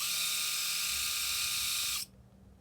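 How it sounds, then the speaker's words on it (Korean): A faulty electric shaver motor that switches itself on runs with a steady, bright, close buzz for about two seconds, then cuts off abruptly. "스스로 켜지는 자동 면도기입니다."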